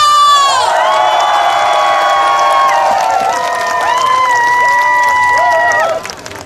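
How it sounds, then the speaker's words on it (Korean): A large outdoor crowd at a Korean cultural festival concert cheers and shouts loudly, with high sustained voices and whoops over scattered applause, then the noise suddenly drops away near the end. "박수와 함성!"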